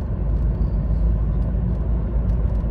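A car cruising on a highway, heard from inside the cabin as a steady, dense low rumble of road and engine noise that continues without a break and with no voices.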